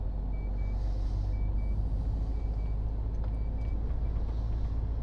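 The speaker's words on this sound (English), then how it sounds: "Beep beep, beep beep," A truck reverses on a road, and its beeper sounds in paired pulses repeated several times over a loud, steady engine rumble.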